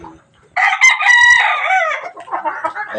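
Chickens cluck loudly and close by while a rooster crows in a farmyard poultry pen, the calls starting abruptly after a brief silence and overlapping for several seconds.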